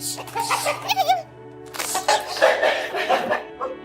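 A chicken clucks and squawks in agitated bursts close by, amid a noisy, busy scene.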